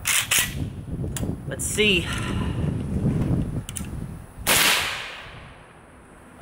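A suppressed Zastava ZPAP M70 AK rifle fires a few sharp cracks separated by pauses, close and loud, with someone speaking briefly between the shots.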